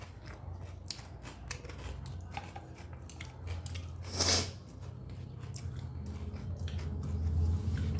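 Close-up chewing of spicy biryani: soft wet mastication with scattered crisp bites and clicks, one sharper crunch standing out midway, over low room hum.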